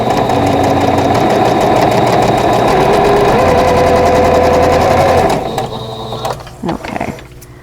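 A sewing machine stitching pieces of a vintage tulip quilt block, running in a fast steady whir of needle clatter for about five seconds before stopping, followed by a few small handling sounds.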